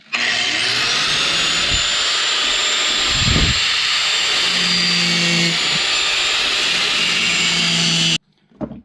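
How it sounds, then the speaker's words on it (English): An angle grinder whines loud and close, grinding down protruding bolts on a small sailboat's mast mount in one long continuous run, then cuts off abruptly. "I'm going to grind off these bolts here so that I don't have anything sticking up too high."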